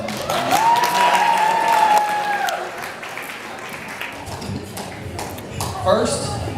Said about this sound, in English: So please, round of applause for myself.